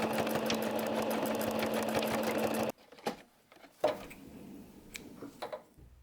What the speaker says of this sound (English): secure the darts by top stitching widest point of the neckline, stitch it back and forth just to secure the darts and keep them in place